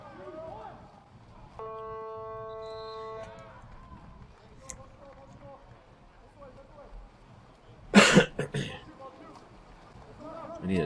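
A single harsh cough bursts out loudly and close to the microphone, with a couple of quick spasms, amid talk between commentators at a 2018 SET versus Lamorinda sports game. A steady tone and scattered background sounds appear earlier.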